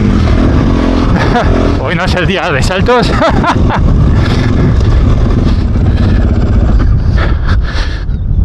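Strong wind buffets a Fantic 450 Rally motorcycle on a dusty enduro track, a steady broadband roar over the engine, with a rider talking over it throughout.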